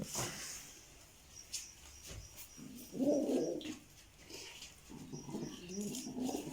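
Pigeons kept by a fancier coo at close range, with one clear throaty burst in the middle and softer cooing near the end, alongside a distant dog and background murmur.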